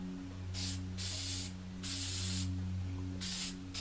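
Spray paint hisses from an aerosol can onto a cement statue in several short bursts, each about half a second long, close and clear over a low steady hum.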